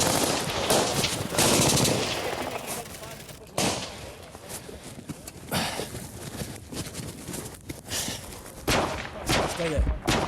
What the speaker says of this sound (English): As a section from 2-0 take Pollock down to the wadi, the rest of 2-0 give covering fire